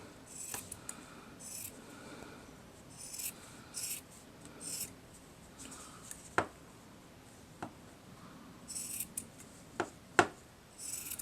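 Scissors snipping through sock fabric to cut out sock monkey ears along a seam, a few sharp, quiet clicks and rustles spaced apart on a soft, close-up table.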